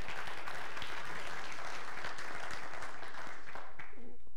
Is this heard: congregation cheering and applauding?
yes